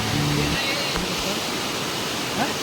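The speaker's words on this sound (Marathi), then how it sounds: "पावसाला सुरुवात पण झाली एक नंबर" Rain begins outdoors near a river during a fishing outing, a loud, steady broadband hiss of falling water that fills the whole moment, with faint voices briefly underneath.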